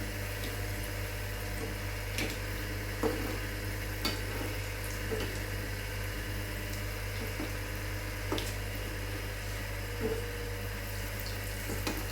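Egg devils fry in hot oil, with a constant hissing sizzle over a low steady hum and occasional light clicks of a utensil against the pan.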